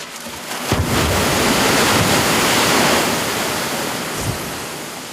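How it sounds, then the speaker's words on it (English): A loud, continuous roar of water surging from a wave-generating machine that drives a man-made tsunami down a 180-metre chute at a Kanagawa research lab. The rush builds quickly after a brief start and stays heavy throughout. "This machine can generate waves more than 3 meters high, propelling 300 cubic meters of water down a 180-meter long chute"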